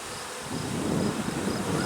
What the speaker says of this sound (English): Amazing bees here.